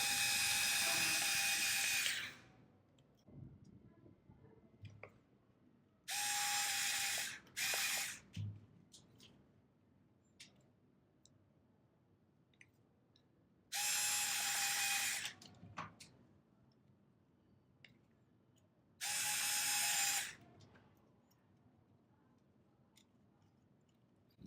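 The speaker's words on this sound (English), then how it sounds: "Then we can use the screws to fix the board onto the body." Screws are driven into a Petoi Bittle robot dog body to fix the board in place, in four loud buzzing bursts of a small electric screwdriver a few seconds apart, with faint handling clicks between them.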